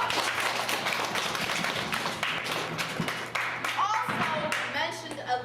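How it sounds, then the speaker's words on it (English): A small group claps, a quick patter of hands for several seconds, fairly close, with a few voices murmuring near the end. "give her a nice round of applause"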